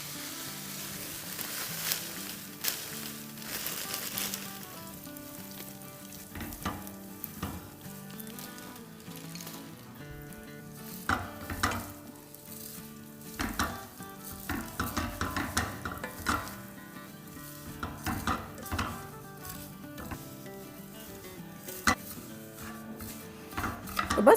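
Vermicelli stirred and roasted in a pan over medium-low heat, with a soft continuous sizzle under repeated scraping and clinking of a spoon against the pan, fairly quiet and irregular.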